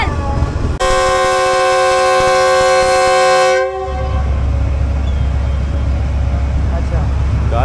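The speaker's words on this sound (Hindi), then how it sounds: "सडन हॉर्न दे दिया है जी डिपार्चर का" A GE U40 diesel locomotive, number 9015, hauling the Tezgam Express out of Karachi sounds its departure horn. One loud, sustained blast of about three seconds rises over the heavy rumble of the engine, which continues after the horn stops.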